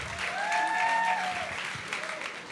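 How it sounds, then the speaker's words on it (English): Audience applause at a gala evening fills the room in a steady wash of clapping, while a tonal voice or music line rises briefly over it. "A round of applause for Ronnie."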